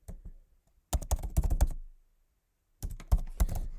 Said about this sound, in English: I'm going to type in here air pollution slash